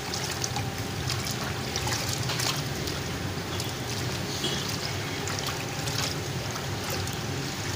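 Water pours into a pot while cow intestines are washed, a steady, loud, continuous splashing trickle running throughout with no speech.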